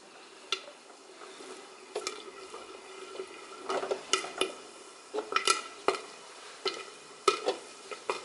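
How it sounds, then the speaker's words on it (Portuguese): Irregular sharp pops burst out of a steady sizzle in a covered pan, coming sparsely at first and then in quicker clusters, close by, with no talking. "Já vai começar a estourar as pipocas aqui."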